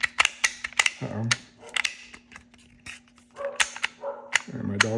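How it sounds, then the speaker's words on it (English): A dog barks at someone arriving, letting out several short, sharp barks in bursts close by, mixed with small clicks and handling noises of gear indoors. "And my dog's telling me someone's here."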